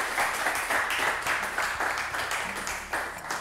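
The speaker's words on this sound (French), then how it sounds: "Merci d'applaudir notre roi." A studio audience at a French quiz show applauds the champion, a full, continuous round of clapping with a faint pulsing rhythm, close and fairly loud.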